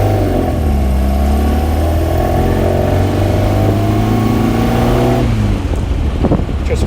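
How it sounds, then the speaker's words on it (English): A car's engine intake roars loudly as it accelerates, its droning tone climbing steadily in pitch for several seconds before it suddenly falls away near the end, with no talking. "the intake noise is definitely louder"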